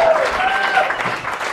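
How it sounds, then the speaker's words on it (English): A comedy show audience applauds steadily, a dense wash of clapping that fills the room at even loudness from start to finish, with a faint cheer or voice mixed in. "Let's give a round of applause for SBB."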